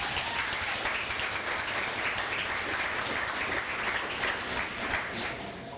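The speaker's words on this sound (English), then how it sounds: "Feel free to applaud them as they come up." An audience at a high school fall sports banquet applauds steadily, a dense, continuous wash of many hands clapping heard from within the room, fading slightly at the end.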